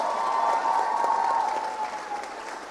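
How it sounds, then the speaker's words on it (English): An audience at a live stage event applauds loudly, a dense burst of clapping that begins at full strength and eases off slightly toward the end. "So I want the loudest applause that you can manage for these three spectacular women."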